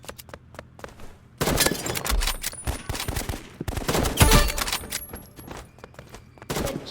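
Rapid gunfire bursts from a first-person shooter match in the game Rivals, with repeated close, loud volleys and impact thuds, pausing briefly before more shots and a headshot hit.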